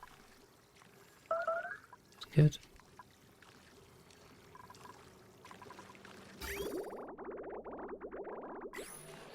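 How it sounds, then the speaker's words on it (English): Water filling a room in the colony game Oxygen Not Included: a soft pouring, trickling rush rises after a few quiet seconds and continues steadily, with a short spoken remark and a few faint game clicks earlier. "This is filling with water."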